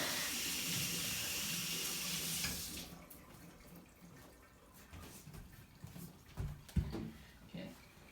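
A kitchen tap runs with a steady close hiss while hands are washed, then shuts off, leaving soft splashes, drips and handling sounds.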